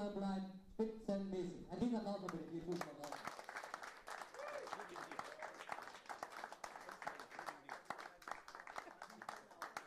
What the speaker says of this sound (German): Ein Riesenapplaus von draußen für die Zuschauer, die am Stream online bleiben.